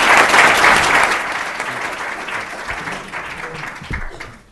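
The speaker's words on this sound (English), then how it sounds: "let's give our panelists another round of applause" Audience applause for conference panelists at a session on the International Criminal Court, dense clapping loudest at the start and gradually tapering off over several seconds.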